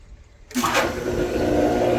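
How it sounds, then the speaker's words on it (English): A Pentair pool pump switches on about halfway through, quiet room tone giving way abruptly to a steady, loud broadband whoosh and hum of water being drawn through the hose. "I have power turn onto the pump and I turn the pump on."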